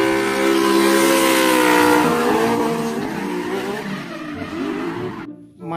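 A toy Lamborghini race car gives a loud, close engine-like roar with a sustained whine and shifting pitch that fades and drops off near the end.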